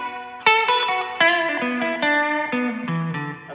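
An electric guitar played through a pedalboard plays a short sequence of plucked notes with a light reverb tail letting each one ring softly.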